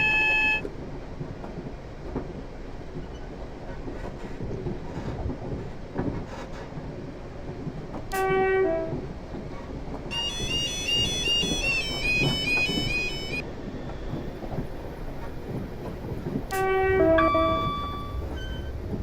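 Class 444 electric train running in Train Simulator 2015 on the Portsmouth Direct line, a steady low rolling rumble with short electronic beeps and a brief rising cab tone partway through.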